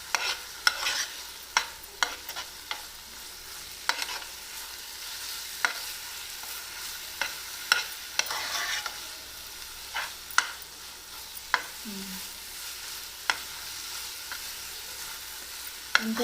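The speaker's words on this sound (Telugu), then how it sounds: "ఇప్పుడు గరిచి కలబెట్టుకుందాం." A ladle stirs thick beetroot halwa in a pot, giving sharp intermittent scrapes and taps at an uneven rhythm over a faint low bubbling, with no voices.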